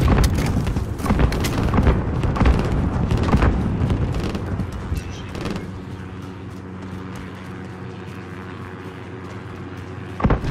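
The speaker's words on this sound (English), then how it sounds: "You've got mortars incoming!" Enemy mortar explosions in Call of Duty Modern Warfare co-op form a dense, loud barrage of booming blasts and debris for about five seconds, then fade into a low rumble before one last thud.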